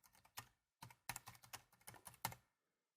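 Keystrokes on a computer keyboard typing text, a burst of quick clicks, a pause, then a steadier run of taps, close and crisp with no talk.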